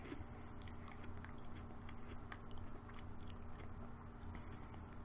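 A Cinnamon Bun Oreo cookie is bitten and chewed close up, with soft crunches over a low steady background hum and no talking.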